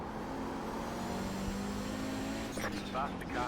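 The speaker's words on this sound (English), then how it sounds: "Faster car coming up quick." Engine drone of a racing car in an IMSA vintage sim race at Mid-Ohio, Audi 90 GTO class, steady tonal hum with a faster car closing in near the end, faint and under radio-style talk.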